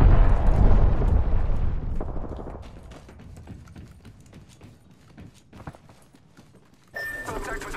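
A grenade blast in the battle royale shooter Apex Legends hits as a loud, booming burst that decays into scattered crackles and debris clatter, followed by a brief game voice line.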